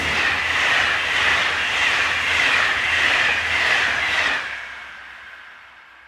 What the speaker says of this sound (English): it is a southbound service that shatters the peace, with 26025 providing the power.